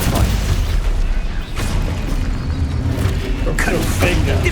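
Spell effects cast in Hogwarts Legacy: loud, booming magical blasts and impacts arrive in quick succession over a heavy, rumbling low end, with a sharper crackling burst near the end.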